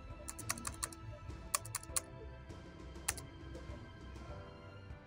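Typing on a computer keyboard while creating a PayPal account, with quick irregular clusters of close, crisp key clicks separated by short pauses, no voice.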